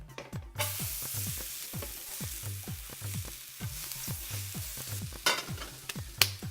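Vegetables for shakshuka sizzling in a hot, smoking pan with a little oil, a steady hiss over a regular rhythmic scraping of stirring, with a few sharper clanks near the end.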